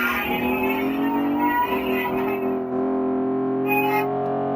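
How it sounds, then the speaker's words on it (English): Phone ringtone reproducing a Ferrari V8 engine, a steady buzzing engine tone with a brief pitch swell partway through, playing alone and fairly loud for a few seconds. "Yes, that is a Ferrari V8."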